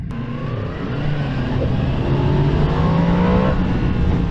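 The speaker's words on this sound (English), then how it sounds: "that roar, that CP4 engine, you gotta love this" A Yamaha MT-10 motorcycle's CP4 engine roars loudly and climbs in pitch as it revs up, a steady close mechanical drone that rises over several seconds.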